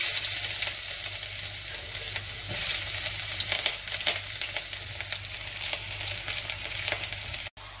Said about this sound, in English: Once the oil is heated well, we add this chopped ginger and garlic and also green chilies to it